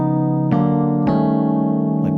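Three sustained piano-like whole tone chords ring out one after another, each struck about half a second apart with an ambiguous, floating harmony like Debussy's La Mer.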